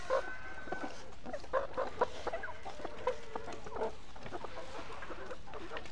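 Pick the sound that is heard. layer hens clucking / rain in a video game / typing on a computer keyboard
layer hens clucking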